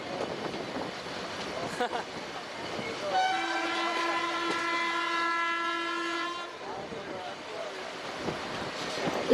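The Ooty toy train in the hills of Ooty sounds a long, steady horn blast lasting about three seconds while the carriages rumble along, and faint talk is heard around it.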